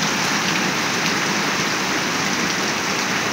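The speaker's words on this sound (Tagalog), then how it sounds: "At ayan, malakas ulit ang ulan." Heavy rain pours down steadily in a dense, continuous broadband roar, loud and close with no break, with no other sounds standing out.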